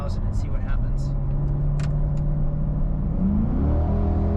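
2021 mid-engine C8 Corvette Convertible accelerating hard to about 4,000 RPM, a steady engine hum climbing in pitch with a sharp rise near the end, heard from inside the car with brief voices early on.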